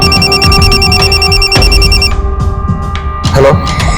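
A phone rings in a repeating electronic ring pattern over a speakerphone connection, fairly loud and steady for about two seconds, then cuts off into line noise and a brief burst of sound.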